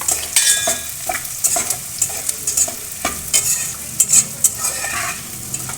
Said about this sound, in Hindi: अब ये गोंदे फ्राई करूँगी